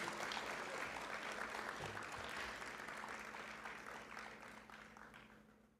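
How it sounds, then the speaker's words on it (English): Sustained audience applause fills an award ceremony for a school infrastructure design competition, a dense steady wash of clapping that holds throughout and slowly tapers toward the end. "another rousing round of applause for these talented young ladies"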